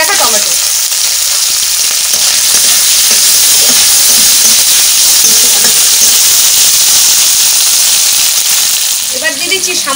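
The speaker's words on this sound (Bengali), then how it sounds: "এবার দিয়ে দিচ্ছি কেটে রাখা টমেটো।" Chopped tomatoes hit a hot pan in a village kitchen and sizzle loudly and steadily, a bright hissing fry with faint stirring scrapes near the end.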